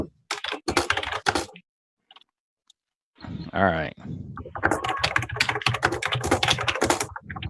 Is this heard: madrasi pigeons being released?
no